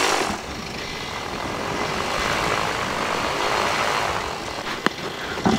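A light propeller aircraft taxiing out at Darley Moor airfield gives a steady, near engine drone and propeller whir that holds throughout, with a brief sharp knock near the end.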